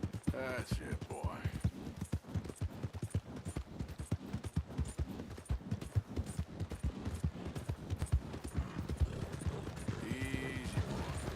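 In Red Dead Redemption 2, a horse's hooves clop rhythmically at a walk beneath near-continuous talking from several voices.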